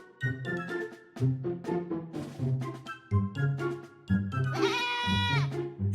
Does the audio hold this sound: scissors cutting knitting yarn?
no